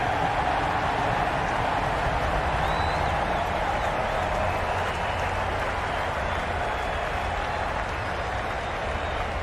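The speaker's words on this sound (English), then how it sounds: "The crowd are really getting quite raucous." Raucous crowd at a cricket match roars steadily throughout, a dense continuous wash of shouting and cheering with faint whistles on top, loud and unbroken from start to finish.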